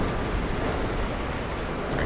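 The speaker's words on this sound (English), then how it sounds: "they can't see me in the pouring acid rain." Heavy acid rain pours steadily on an alien planet in No Man's Sky, a dense, even hiss of rainfall that fills the scene at moderate loudness.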